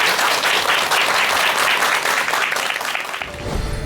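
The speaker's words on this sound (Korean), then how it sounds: "박수 부탁드립니다." Sustained applause from a lecture-hall audience greeting a meditation talk, dense and loud throughout before tapering off near the end.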